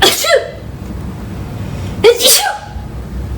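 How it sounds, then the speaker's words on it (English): Two sharp, close sneezes, each a quick inhaled catch followed by a loud burst, separated by a couple of seconds of quiet. "I had to sneeze"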